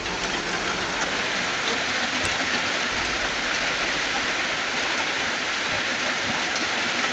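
Steady rain pours down outdoors in a broad, continuous hiss, loud and close, with occasional heavier drips standing out. No one speaks.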